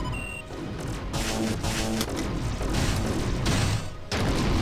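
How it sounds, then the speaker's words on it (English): Explosions in the space combat game Wing Commander Prophecy, a dense run of booming blasts and crashing impacts layered over a continuous loud rumble, with no talk. "Explosions are good, aren't they, for such an old game?"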